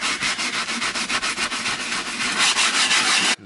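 A brush scrubs the cracked leather seat of a Jaguar car in fast, repeated rasping strokes, close and loud, then stops abruptly at the end.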